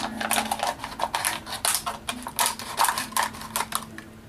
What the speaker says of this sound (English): and then cut all the way around